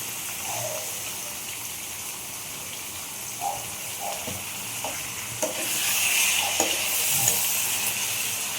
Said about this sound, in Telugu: చికెన్లో నుంచి వాటర్ పోయేంత వరకు ఇలా కలుపుకుంటూ ఉడికించుకోవాలండి